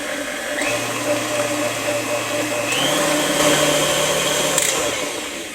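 An electric hand mixer whirs steadily as it beats whole eggs and vanilla into cookie batter, a continuous motor drone that shifts up in speed partway through, running without a break and sitting close by.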